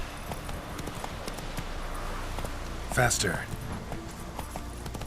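Horse hooves clip-clop steadily throughout in The Witcher 3, a close galloping rhythm with a brief louder rush midway, while a voice calls out over it.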